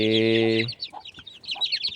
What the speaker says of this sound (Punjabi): ਇਹ ਪੀਲੇ ਮੁਰਗੇ ਦੇ ਬੱਚੇ ਆ ਸਾਰੇ